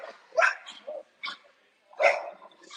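Two dogs barking at each other indoors, a few sharp, fairly quiet barks and yips in an irregular rhythm with short pauses.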